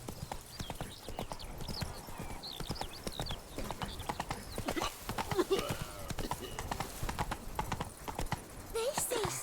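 Horse hooves clip-clopping in a steady trotting rhythm in The Witcher game, close and distinct, with occasional whinnies and someone talking over them.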